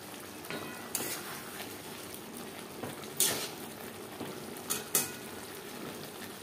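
Shol fish curry cooks in a pan on a medium-low flame, a quiet continuous sizzle and bubble broken by a few sharp clinks of a utensil against the pan.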